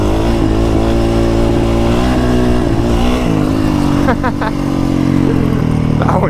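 A Honda CRF450R race motorcycle revs hard during lot practice, its engine note climbing and falling in sharp pitch sweeps, loud and close, with a rider talking over the engine.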